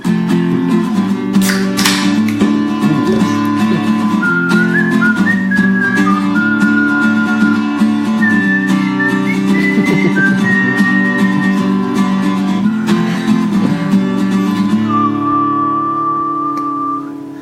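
A person whistles a wandering melody for about seventeen seconds, shifting from pitch to pitch over a steady background of music, with the tune ending on one long held note.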